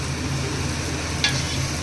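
Onions and green chilies frying in oil in a pan, a steady dense sizzle running throughout with a brief stirring scrape partway in, close and fairly loud with no voices.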